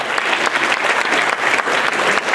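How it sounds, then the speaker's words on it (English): An audience at a memory workshop claps steadily for a couple of seconds, dense and close, with no voices on top. "Everybody give a round of applause"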